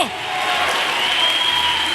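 Church congregation applauding during a sermon, a loud, steady wash of clapping that swells slightly and holds across the whole stretch.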